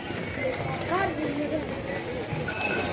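Horse hooves clip-clopping along a pilgrimage trail during a light drizzle, the steady clopping mostly buried under nearby talking and outdoor noise.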